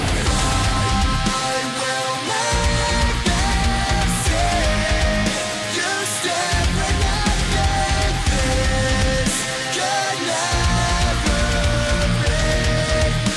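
Dense metalcore, loud and sustained throughout, with distorted guitars, pounding drums and layered melodic lines, dropping out briefly in the low end a few times before crashing back in.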